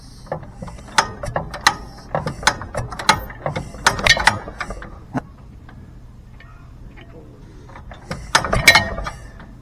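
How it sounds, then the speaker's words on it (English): An International LB throttle-governor engine is turned over by hand crank, giving a series of loud ratcheting mechanical clicks and clatters in irregular bursts, then a short pause and a final cluster of clacks. "Grip crank 1 inch away from the flywheel."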